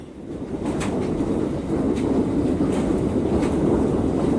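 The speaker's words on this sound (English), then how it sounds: "That is hail." Hail pours down during a hailstorm in the Oklahoma City metro area, a dense, steady roar of pelting ice with scattered sharper impacts, loud and continuous.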